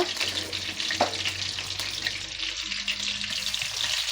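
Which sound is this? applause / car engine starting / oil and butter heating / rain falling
oil and butter heating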